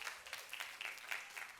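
A congregation at a Sunday worship service claps in a light, fairly quick rhythm, heard faintly and from a distance.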